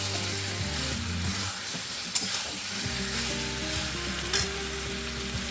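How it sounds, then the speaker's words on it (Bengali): Green jackfruit pieces sizzling in a pan while being stirred, a steady close frying hiss with a low background hum and a couple of sharp scraping clinks from the spatula. "এবার আমি ইঁচড়গুলো দিয়ে দিলাম এবার ইঁচুরটা একটু নেড়ে চেড়ে নেব"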